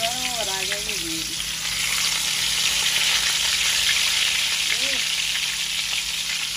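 Hot oil sizzles steadily in a pan on a home stove while chicken leg pieces are cooked for bhuna, a constant bright frying hiss that runs throughout, with brief voices over it.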